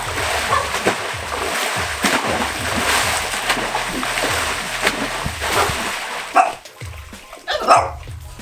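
Water splashing and sloshing in a swimming pool, with choppy broadband bursts across the clip and louder splashes near the end, plus a dog barking intermittently in the background.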